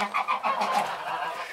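A goose sitting on a nest of mixed goose, duck and chicken eggs on a homestead gives a quick series of close, nasal honks that blur together into a short burst.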